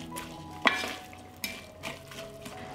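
Onion and chopped bacon frying together in rendered fat in a pan, a steady close sizzle broken by several scraping stirs and light utensil knocks against the pan.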